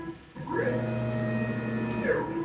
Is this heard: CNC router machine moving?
yes